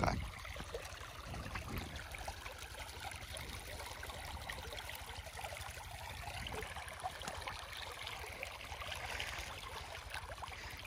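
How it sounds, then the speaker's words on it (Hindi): Irrigation water flows steadily into a field being flooded before wheat seed is sown, a faint, continuous outdoor rush and trickle with no voices over it. "धराधर पानी चल रहा है"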